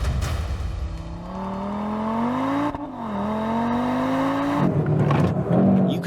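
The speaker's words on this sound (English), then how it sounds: "Let's begin with the launch control start with our new launch control traffic light" A 2022 Audi RS3 prototype makes a launch control start, its engine climbing steadily in pitch through the revs, dropping briefly at a gear change, then building again loud and close.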